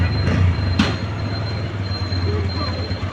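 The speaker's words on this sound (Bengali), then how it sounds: "ট্রেন ট্রেন যাচ্ছে, শুধু গেট পড়ে।" A train rolls past a level crossing with its gate down: a loud, continuous rumble of wheels on rails, a thin high squeal running throughout, and a sharp clank near the start.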